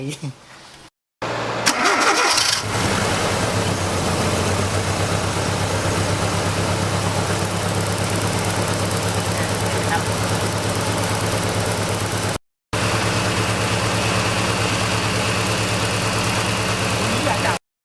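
An engine cranks briefly, catches and settles into a steady, loud running drone that continues close by with a short break near the end.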